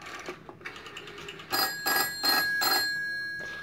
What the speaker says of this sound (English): I set 7 to call a ringtone